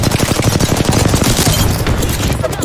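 Gunfire in a shooter video game, a loud, dense rattle of rapid automatic shots firing in quick succession throughout, close and continuous, with a short voice line mixed underneath.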